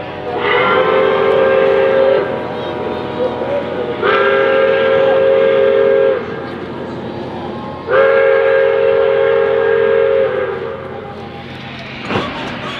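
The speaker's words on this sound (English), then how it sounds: "While they were doing that, the train backed up to clear the intersection." Pere Marquette 1225 steam locomotive backing up, sounding three long, loud steam whistle blasts about two seconds each with short gaps, over a steady rumble of the moving train and a brief clank near the end.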